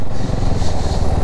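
A motorcycle on a long highway ride from Hyderabad to Prayagraj for the Maha Kumbh Mela, with a steady, loud engine drone and rushing wind noise filling the whole short stretch, no talking.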